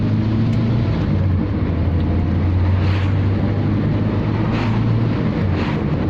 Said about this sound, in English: Fixed fan for the side mounted radiator means most of what you hear engine wise is fan noise.